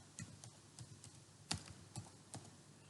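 Someone types on a computer keyboard: quiet, close, irregular keystrokes, about a dozen taps with one sharper key press in the middle, with no talking.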